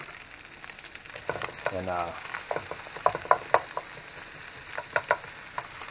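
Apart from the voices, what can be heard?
onions frying with bacon in a pan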